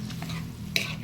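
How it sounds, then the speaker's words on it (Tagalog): Mung beans sauté in a pan for a brief moment, with a low sizzle under a quick scraping stir of a utensil against the pan. "So, lagay na natin yung munggo"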